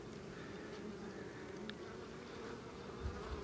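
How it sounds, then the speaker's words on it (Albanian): Honeybees buzz steadily in a dense, continuous drone at an opened beehive, close and moderately loud, with a slight swell near the end. "Shif, tani kanë hyrë bletët sipër"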